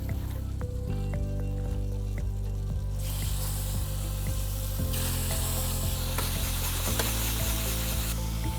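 Butter sizzles steadily in a frying pan at close range, a continuous bright hiss that swells louder partway through, with faint scrapes and taps of stirring underneath and no talking.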